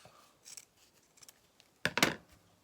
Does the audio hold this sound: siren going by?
no